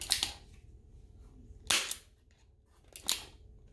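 A $30 airsoft revolver with a 2.5-inch barrel fired three times, each shot a sharp close snap spaced over a second apart, with quiet room tone between.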